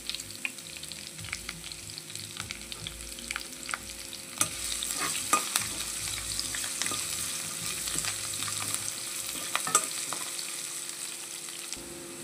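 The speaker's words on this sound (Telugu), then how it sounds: "మనం ఫస్ట్ క్యారెట్ ముక్కలు వేసుకుందాము. క్యారెట్ కొంచెం ఫ్రై అవ్వాలి కదా." Carrot pieces frying in a pan alongside chana dal and curry leaves, a steady sizzle with intermittent scraping stirs, close and fairly quiet, no speech.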